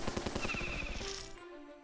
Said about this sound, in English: I'm gonna use the turrets